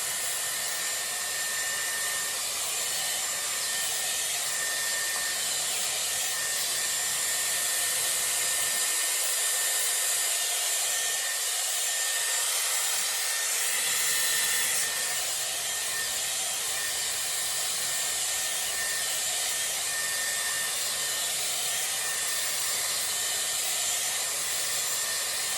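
Continuous loud whooshing hiss of a Dyson Airwrap round brush blowing hair dry, steady airflow from close by with a brief dip in the low rumble midway.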